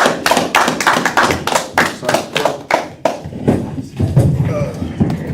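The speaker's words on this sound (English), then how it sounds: "Clap it up" Congregation at a Sabbath service clapping together in a fast, steady rhythm, loud and close, the claps landing in unison with some voices underneath.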